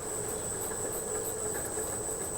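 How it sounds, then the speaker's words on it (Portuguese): A suspension test rig shakes a car shock absorber at rising intensity. It makes a steady, faint mechanical rumble with a thin high whine that runs unbroken throughout. "aqui a gente consegue aumentar a intensidade para fazer o amortecedor trabalhar cada vez mais"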